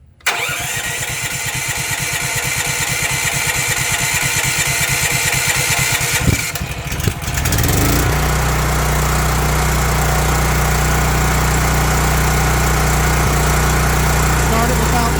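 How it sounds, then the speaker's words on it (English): A Honda generator engine is cranked repeatedly, the starter chugging rhythmically for several seconds before the engine catches and settles into a loud, steady idle hum close by. "I'll just crank it without choke for a little bit and then crank it with choke."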